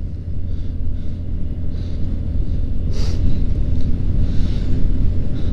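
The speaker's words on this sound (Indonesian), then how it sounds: "Tapi gua bawa motornya pelan-pelan aja ya." A low engine rumble drones steadily throughout, a Yamaha Gear 125 scooter ridden at an easy, unhurried pace with faint wind noise and no speech.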